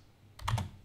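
A few quick keystrokes on a computer keyboard, close and fairly quiet, clustered in a short burst against near silence.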